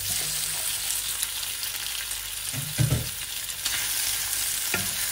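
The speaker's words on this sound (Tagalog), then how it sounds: "Pwede ko na siyang ilagay yung shrimp guys." Shrimp stir-frying with bok choy in a hot pan, a continuous loud sizzle punctuated by a few scraping stirs of the spatula, with no talking.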